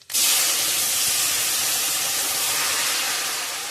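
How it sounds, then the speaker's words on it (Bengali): Fish broth poured into hot oil tempered with five-spice, cumin and a bay leaf, for a thin Katla fish curry with green mango, bursting into a loud, steady hiss that starts abruptly and holds, slowly easing, with no talk. "হালকা ভাজা হয়ে গেছে, এবারে ঢেলে দেবো ঝোল।"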